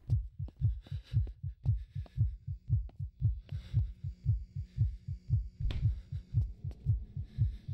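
In the horror video game Infliction, a loud, deep heartbeat thumps steadily in quick paired beats and repeats continuously, with faint game ambience behind it.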